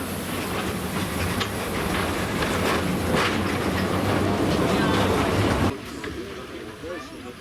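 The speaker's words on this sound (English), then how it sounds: "By the time our train reached the end of the line at Dobrok" A train rumbles and clatters into Dobrok station in Slovakia at the end of the line, a dense, loud rolling roar with brake hiss that cuts off abruptly near the end, leaving a quieter ambient tail.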